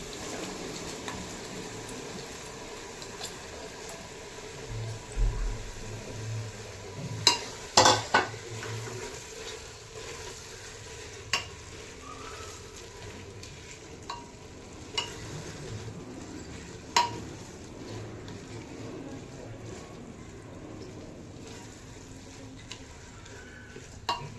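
Washed basmati rice poured into a pot of oil and fried vegetables for veg biryani, with soft sizzling under a scattering of spoon scrapes and clinks against the pot, a few sharper knocks mid-way, no talking.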